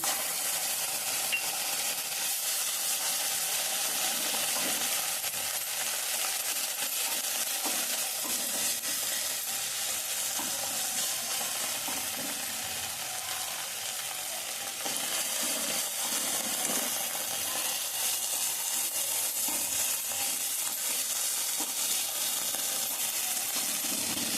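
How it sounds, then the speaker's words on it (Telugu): Masala frying and sizzling in a pan for a brinjal, dried fish and egg curry: a steady, loud hiss of oil with faint stirring scrapes throughout, no voices. "ఇప్పుడు మనం ఇలా కొద్దిగా గ్యాప్ ఇచ్చి దీనికి మనం మసాలా కొద్దిగా ఏగనిద్దాం"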